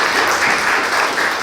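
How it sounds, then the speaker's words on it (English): Concert audience applauding for a group at a benefit show at The Refinery, a dense, steady wash of clapping that holds at full strength for the whole stretch, with no voices over it. "Can you guys give them a round of applause for me?"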